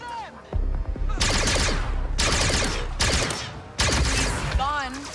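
Gunfire in the Star Wars Outlaws video game, repeated loud blaster bursts in a steady sequence of volleys with dense effects and voices mixed in.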